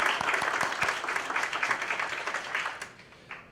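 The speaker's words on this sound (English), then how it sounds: "Another round of applause." Applause from an audience at a school oratorical event, fairly close and lively clapping with distinct individual claps early on, thinning and fading out toward the end.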